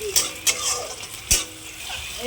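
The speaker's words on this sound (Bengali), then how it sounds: "তেল দিলাম পেঁয়াজটা লাল করে ভেজে নেব তেজপাতা দিলাম" Onion and bay leaf frying in oil in a wok: a soft, continuous sizzle broken by a few sharp clinks and scrapes of a spatula, close and fairly quiet.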